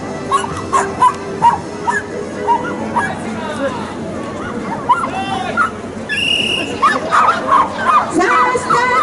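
Dogs bark, yip and whimper repeatedly at an outdoor dog sports day with small-breed races, heard over steady crowd chatter and voices from people nearby.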